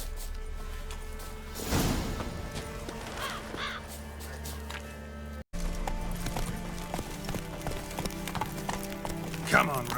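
Horse hooves clip-clopping in The Witcher 3 as Geralt rides his horse Roach, a steady galloping rhythm under game music, with crows cawing and a brief voice in the background.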